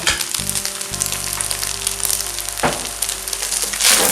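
Pineapple and soy sauce sizzle loudly in a hot pan for pineapple fried rice with chicken breast, a steady frying hiss with a low hum underneath and a brief scrape or clatter partway through, no talking.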